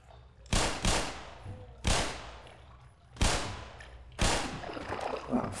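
Four loud, well-spaced gunshots in Black Mesa, each a sharp crack with a short decaying echo, the last followed by some faint clatter.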